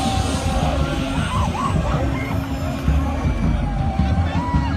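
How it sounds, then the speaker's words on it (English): A large unruly protest crowd yells and shouts continuously at close range, a dense roar of many voices with rising cries over a low, steady rumble. "The crowd cannot be controlled by the security agencies"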